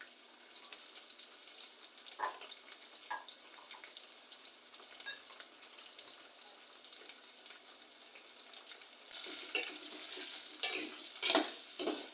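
Onions frying in a pan with crushed garlic cloves, a low steady sizzle under scattered stirring scrapes that grow busier and louder toward the end, close up with no talk.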